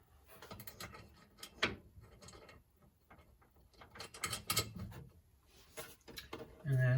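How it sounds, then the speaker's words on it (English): A nut being threaded onto a motorcycle anti-roll bar drop link on a Hayabusa, heard as quiet, close, intermittent ratcheting and metallic clicks in irregular bursts. "Do a little bit of adjustment. So put the nut on."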